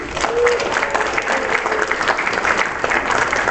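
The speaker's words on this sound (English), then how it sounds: "Give yourselves a round of applause." Crowd in a ballroom at a podcasting talk breaks into sustained applause, a dense even patter of many hands filling the room for a few seconds.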